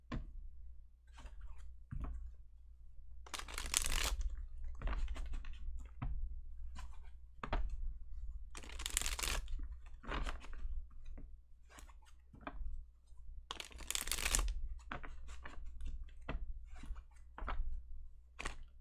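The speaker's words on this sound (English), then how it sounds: "Oh, one more proper shuffle." Repeated bursts of tarot cards riffling and slapping together, several quick shuffles in a row separated by short pauses, close and fairly quiet.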